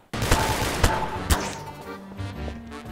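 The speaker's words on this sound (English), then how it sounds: "that sounds like a lot of gunfire out there" Heavy gunfire in Garry's Mod crackles in bursts, with sharp loud shots standing out over a continuous rattling barrage.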